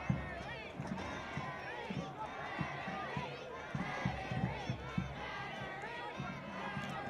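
Crowd at a professional soccer match between Charleston Battery and North Carolina FC, a continuous roar of cheering and shouting from a stadium, with scattered louder yells throughout.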